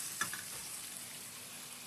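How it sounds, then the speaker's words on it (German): Meat searing in a hot pan on the stove, a steady, soft broadband sizzle that holds evenly throughout with a couple of faint clicks near the start and no talking. "Ich würde den jetzt so 3-4 Minuten von jeder Seite anbraten."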